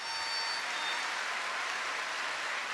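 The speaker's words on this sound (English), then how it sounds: "Audience, please join me in giving them a round of applause" Audience applause at a commencement ceremony: a large crowd clapping in a dense, steady wash that holds evenly for the whole stretch, with no voices over it.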